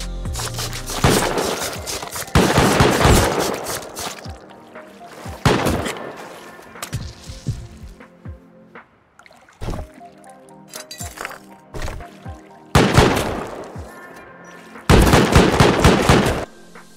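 Auto turret in the survival game Rust firing in repeated loud bursts, several rapid volleys separated by pauses and scattered single shots, close and harsh, with no talking.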